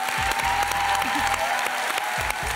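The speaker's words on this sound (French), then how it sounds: "Applaudissements pour Arnaud" Audience at a French stand-up comedy show clapping for a comedian, dense steady applause with some crowd noise and faint music underneath.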